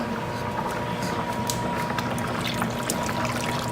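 Liquid, likely broth or milk for shrimp and chicken fettuccine Alfredo, pours steadily into a pot for a few seconds, a continuous splashing trickle close by.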